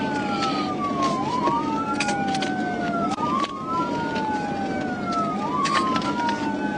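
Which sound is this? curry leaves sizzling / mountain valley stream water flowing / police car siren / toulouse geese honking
police car siren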